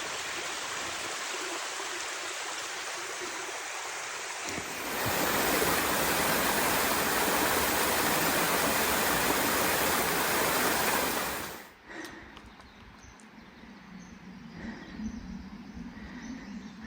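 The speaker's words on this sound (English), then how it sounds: "The water's cutting its way a crack under the larger rock." Mountain stream on the Old Speck Mountain trail in Maine, water running through a crack beneath a large rock, a broad steady rushing that swells louder in the middle, then drops to a softer trickle with faint birds.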